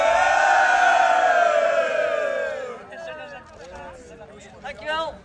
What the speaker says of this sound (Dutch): Even juichen jongens, juichen!